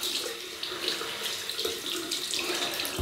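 Water runs steadily from a bathroom tap to wet things before an Old Spice shave, a close, continuous splashing stream with no talk.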